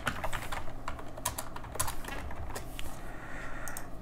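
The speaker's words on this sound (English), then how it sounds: "here you should write your password" Keys on a computer keyboard are tapped quickly while a password is entered, giving irregular clusters of light, close clicks over faint room hum, with no one speaking.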